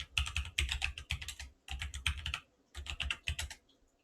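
Keys on a computer keyboard are typed in quick bursts while a passphrase is entered, three clusters of close, crisp clicking separated by short pauses, with no voice.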